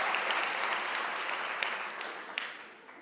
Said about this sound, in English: Can we give an applause to our parents?